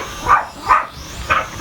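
A dog barks outdoors, likely chasing a small camera drone in flight: three sharp, fairly close barks spaced evenly apart over steady background noise.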